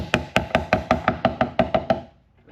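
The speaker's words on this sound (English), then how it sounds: "So I like to do a lot smaller taps" Light taps on the parts of a 48-inch RTA bathroom vanity cabinet being fitted together, about nine sharp, evenly spaced knocks in quick succession, close and clear, then quiet.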